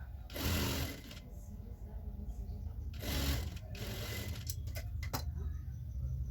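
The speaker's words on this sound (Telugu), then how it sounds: "ఇంకో కాలుకు కూడా అదేవిధంగా వేసుకొని స్టిచ్చింగ్ చేసుకోవాలి." A sewing machine stitching the leg of a ladies' pant, close and loud, with bursts of rapid whirring stitches separated by brief pauses and small clicks of handling.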